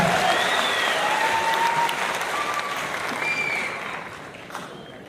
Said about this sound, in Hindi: गुलाबी गुलाबी तालियां बजा के मुझे आदेशित कीजिए